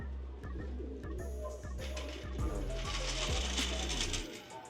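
Pigeons or doves cooing outdoors on a warm day after a week of rain, repeated low soft coos and wing flutters close by, with people talking intermittently over the birds.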